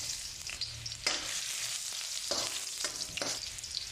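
Ginger fries in hot cooking oil for sinigang, a steady close sizzle with occasional sharper crackles and stirring sounds, and no talking.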